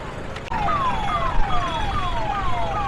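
An ambulance siren wails in repeated falling sweeps, loud and close, during the Rath Yatra crowds in Puri.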